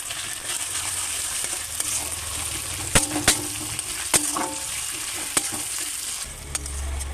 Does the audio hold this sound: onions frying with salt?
yes